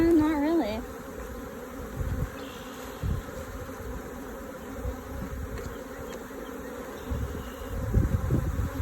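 Honeybees buzz steadily in an open beehive during an inspection, a dense close drone that carries through the whole stretch, with a few louder low bumps and rustles from handling the frames.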